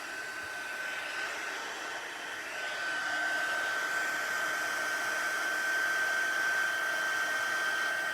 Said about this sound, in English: if you've got your volume up, you might want to turn it down. I love heat embossing